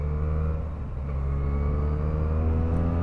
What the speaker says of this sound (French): Le moteur est doux.